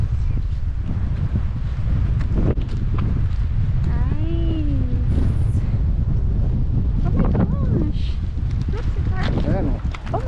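Strong wind blowing at Matsumoto Castle, surrounded by a water moat, producing a constant heavy rumble of wind buffeting the microphone, with voices talking faintly underneath.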